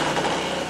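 Firewood processing machine running, its engine giving a steady, close mechanical drone with a fast rhythmic pulse throughout the brief stretch.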